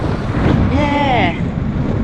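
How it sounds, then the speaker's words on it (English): Wind buffets a microphone outdoors on a very cold, windy day, a steady low rumble running through the whole clip, with a brief whistling tone rising in the middle. "Also, it's very cold, very windy."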